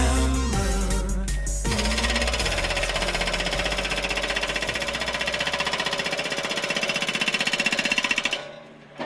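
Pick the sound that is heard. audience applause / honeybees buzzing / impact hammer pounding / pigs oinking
impact hammer pounding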